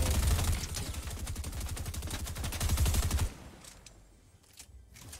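Rapid bursts of automatic gunfire from a Fortnite match rattle loudly and continuously for about three seconds, then cut off, leaving a few faint scattered pops and clicks.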